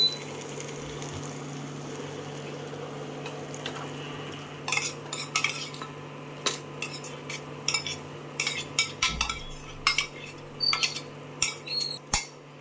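A spoon stirs and turns a turmeric tempering in hot oil in a pan: a low, quiet bubbling at first, then a rapid series of sharp metallic clinks and scrapes against the pan.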